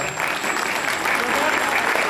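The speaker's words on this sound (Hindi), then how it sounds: "तालियां बजा दीजिए आप लोग थोड़ा।" An audience breaks into steady, full applause at a gathering, with dense clapping sustained for the whole moment.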